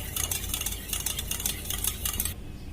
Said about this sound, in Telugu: బీట్ చేసుకుందాం.